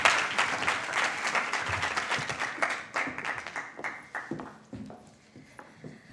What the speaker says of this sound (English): Let's give her another warm round of applause